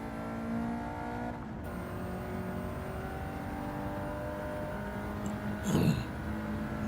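Race car engine on a street car showdown track winding up through the gears, a steady sustained roar with rising harmonic whine held loud and close throughout, with a brief burst of extra noise near the end.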